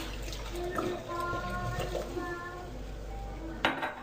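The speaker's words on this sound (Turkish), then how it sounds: "ve 2 su bardağı sütümüzü karıştırıyoruz" Eggs, oil, mineral water and milk being stirred together in a bowl make light, continuous clinks and scrapes of a utensil against the dish over a low background hum.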